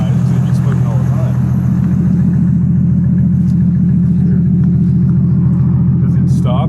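A car with a turbo problem and constant exhaust smoke idles at a stop, giving a steady low rumbling drone that stays loud and even throughout with little variation.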